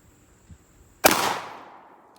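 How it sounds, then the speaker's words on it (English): A single loud blast from a Rock Island Armory VR80 12 gauge semi-automatic shotgun fired at a target, a sharp crack followed by a decaying roll of echo in an otherwise quiet setting. "Go ahead and shoot the hostile target."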